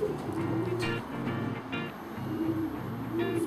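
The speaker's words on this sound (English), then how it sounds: "An extremely well bred pigeon." A well-bred young racing pigeon coos repeatedly in a steady, close rhythm of low throaty phrases, loud and alone over a faint background hum.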